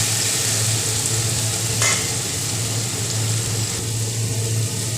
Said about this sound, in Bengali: এবার ভালো করে পেঁয়াজ আর টমেটোটাকে ভেজে নিচ্ছি